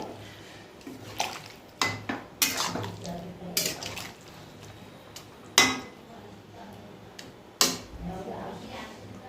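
Rice and soaked raisins are stirred in a cooking pot, a spoon clanking and scraping against the metal in scattered bursts over a low bubbling background.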